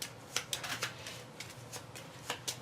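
A deck of cards being shuffled during a tabletop game session, with quick riffling bursts and soft taps repeating close up, and no talking over it.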